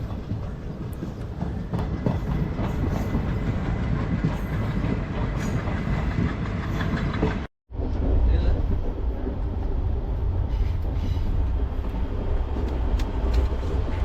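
A passenger train bound for Madurai rumbles along steadily and loudly from on board, with clattering wheels and one brief dropout midway.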